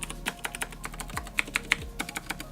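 Rapid clicky keystrokes on a keyboard with Cherry MX Blue switches rattle in an uneven rhythm, close and crisp, with a few louder clacks standing out and no talking.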